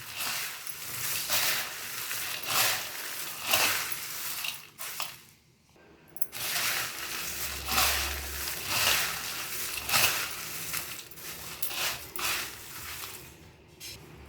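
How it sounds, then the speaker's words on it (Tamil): Peanuts, roasted gram, salt and curry leaves are tossed through a dry snack mixture, giving rhythmic rustling, crunching scrapes in a repeated stirring pattern with a brief pause midway and no speech. "வேர்க்கடலை, பொட்டுக்கடலைக்கெலாம் கொஞ்சமாக உப்பு, கருவேப்பிலை, எல்லாத்தையும் போட்டு நல்லா கலக்கிக்கலாம்"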